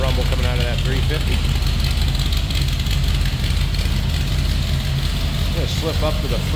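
Steady low rumble of a 350 V8 idling in a 1975 Chevrolet Silverado pickup, close and continuous, with brief faint voice-like sounds near the start and end.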